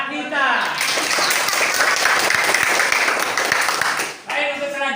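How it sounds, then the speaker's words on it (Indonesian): Classroom full of students clapping for a classmate named Nita, a dense, even burst of applause lasting about four seconds, with brief talking before and after it. "kami beri aplaus untuk Mbak Nita"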